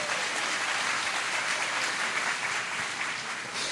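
A congress audience applauds steadily throughout, a dense, even wash of many hands clapping with no talk over it.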